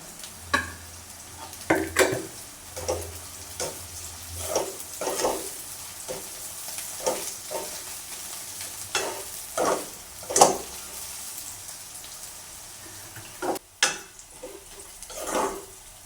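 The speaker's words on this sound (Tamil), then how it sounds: "இதுக்கே நாங்கள் வெட்டி வச்சுருக்கிற பச்சை மிளகாயும் இதுக்கு சேர்த்து போட்டு வதக்குவோம்." Chopped green chillies sautéing in a pan for egg idiyappam kottu, with irregular clacks and scrapes of stirring over a soft frying hiss and a low background hum.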